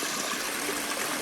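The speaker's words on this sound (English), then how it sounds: "so we just fired up the waterfall here" A backyard natural spring pond waterfall pours steadily over a spillway rock into the pond, a continuous close rushing and splashing wash with no talk.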